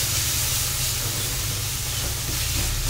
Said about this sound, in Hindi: 1 से 2 मिनट तक हम मसाले को भूनेंगे।